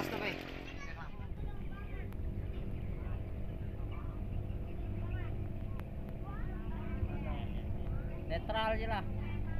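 A low, steady boat motor drone on a river runs throughout, with people talking over it and a few brief chirpy sounds near the end.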